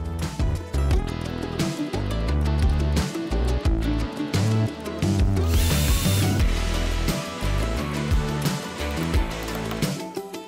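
A power drill bores dowel holes in wooden boards for a frame, whining in loud bursts that rise and stop repeatedly, with rattling and clatter between passes.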